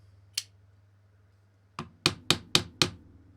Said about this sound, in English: Just a couple of taps, couple of whacks, and make sure everything is good to go.